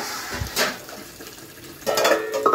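Dishes, pots and pans being scrubbed and washed at a sink, soft scraping and a few metallic clinks of utensils with a brief splash of running water, louder rattling toward the end.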